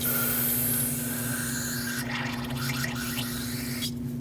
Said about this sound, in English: I'm going to fill this hole, well, almost fill it with brake parts cleaner